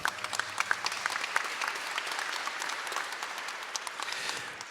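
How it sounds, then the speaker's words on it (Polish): Audience applause at a legion song festival award ceremony in Ząbki, a dense crowd of clapping sustained steadily throughout, fairly close, with no voices over it. "Brawa."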